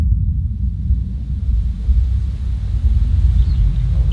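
Low, heavy thunder rolls through a storm as a continuous deep rumble with swelling intensity, distant and alone, with no voices.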